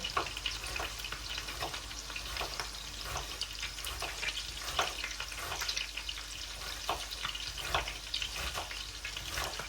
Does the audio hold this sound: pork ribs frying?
yes